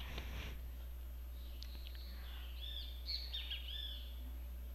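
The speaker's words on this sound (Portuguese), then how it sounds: "Passarinhos." Small birds chirping faintly in the game Marvel: Avengers Alliance, a few short high tweets scattered across a quiet background with a steady low hum.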